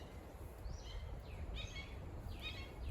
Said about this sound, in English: It's a weird bird.